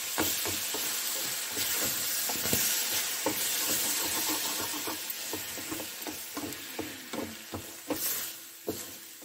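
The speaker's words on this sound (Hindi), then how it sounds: "इसको धीमी आंच पे गुड़ के गलने तक भून लेंगे।" Grated ginger and jaggery roast in a pan over a low flame, giving a soft continuous sizzle broken by frequent sharp scraping clicks of a spoon stirring against the metal, close and moderately quiet.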